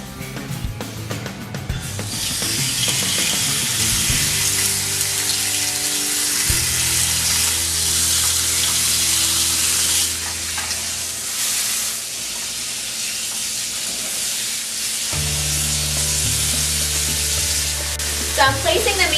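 A steak hits a smoking, oiled grill pan and sizzles loudly, a dense steady hiss that carries on throughout with a few low clatters and shifts in intensity, close up and with no talk.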